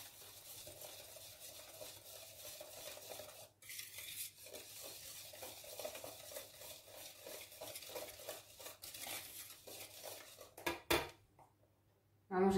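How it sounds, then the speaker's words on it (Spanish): Dough for anise rosquillas is stirred in a bowl, a soft, steady scraping and mixing sound, quiet and close, ending with a few louder knocks. "Vamos removiendo hasta ya tener una bola."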